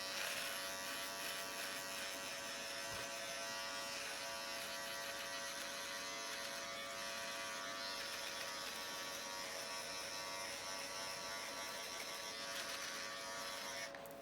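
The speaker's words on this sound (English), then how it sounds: "That's when you know it is time to get the clippers out." Electric hair clippers with about a quarter-inch guard trim a short beard, giving a continuous close buzzing hum that varies slightly as they ride over the hair, with no voices.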